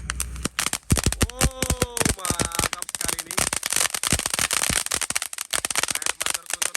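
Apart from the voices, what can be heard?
large cone firecracker (mercon gunung) burning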